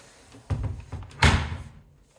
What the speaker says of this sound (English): we're gonna push the door in, squeeze the pull tab, and it should open pretty easily